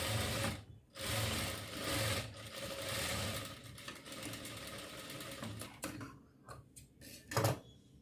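A sewing machine runs close up, stitching the shoulder seams of a baby frock in long continuous bursts that break into short stop-start runs toward the end, with no speech.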